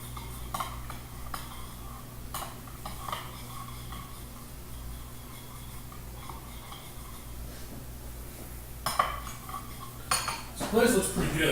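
A spoon clinks and taps around a small bowl while honey sriracha glaze is stirred together with orange juice, light repeated metallic ticks over a faint steady hum, busier toward the end.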